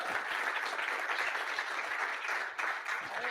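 An audience in a research forum gives a sustained round of applause for its researchers. Dense, even clapping continues throughout at moderate loudness, with no talking over it.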